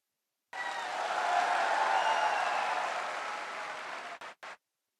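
Audience applause at a motivational event in Meerut, a sustained wash of clapping that swells, holds for several seconds, then tapers off in a few last ragged bursts.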